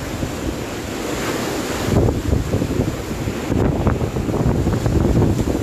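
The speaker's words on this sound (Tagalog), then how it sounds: "Ayan na, malakas na ang hangin." Strong typhoon wind of Super Typhoon Goni (Rolly) roaring in Naga City, a steady loud rush with gusts swelling around the two- and four-second marks, buffeting the microphone throughout without speech.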